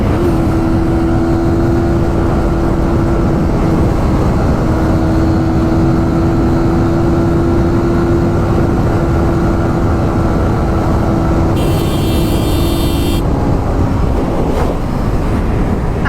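Suzuki GSX-R motorcycle riding at speed, a steady high engine drone under heavy rushing wind noise, sustained and loud with no talk.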